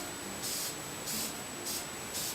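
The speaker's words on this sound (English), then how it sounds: "by spray painting this, with the texture that it has on it, it's going to look very much like rock." Aerosol spray paint hissing onto textured styrofoam rock for a model railroad mountain, four short bursts in an even rhythm, close and fairly quiet.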